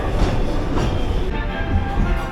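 Disneyland Paris railroad train riding along its track through the Grand Canyon scene, a steady close rumble of wheels and rail clatter filling the whole stretch.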